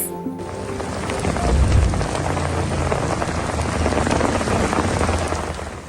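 Heavy rainstorm pouring down in Washington around the Capitol, a dense, steady roar of rain hitting surfaces, loud and continuous throughout with no voices.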